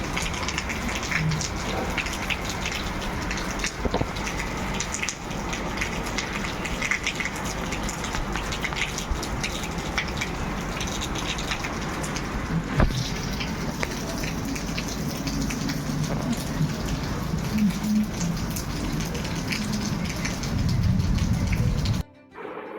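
Steady rain pours down in Rajkot, a continuous dense hiss of drops on surfaces that holds at an even level throughout with no voices, ending abruptly.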